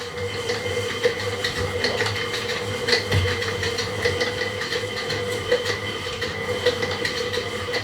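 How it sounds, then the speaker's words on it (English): A stand mixer beating cream cheese and sugar for chocolate cheesecake, running as a steady loud mechanical whir with a constant hum and rhythmic rattling clicks, close by with no talking. "right now in the mixer we've got our cheese and we've got our sugar"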